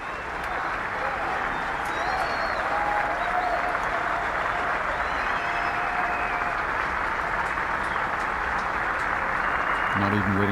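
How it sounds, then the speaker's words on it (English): Gallery applause at the 2001 Masters golf tournament after a risky shot from behind the trees, a broad, sustained roar of clapping and crowd noise spread across the course, with a commentator's voice faintly over it. "Not even waiting for the applause to subside."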